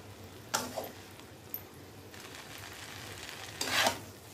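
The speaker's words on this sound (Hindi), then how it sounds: "दस मिनट तक मैं इसको अच्छे से फ्राई करूँगी" Mixed vegetable fried rice frying on a medium flame, a soft low sizzle with a few scattered stirring scrapes and one louder burst of spatula movement near the end.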